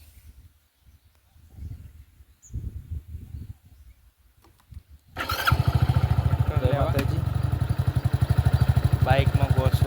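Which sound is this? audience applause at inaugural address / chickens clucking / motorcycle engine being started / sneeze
motorcycle engine being started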